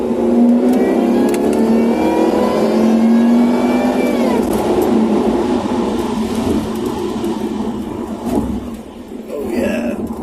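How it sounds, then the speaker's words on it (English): A Jaguar 4.0 XKR with its standard supercharger pulley accelerates hard, a loud continuous engine drone with rising harmonics climbing over several seconds before easing, recorded from inside the car. "So that's the old pulley noise, old engine noise."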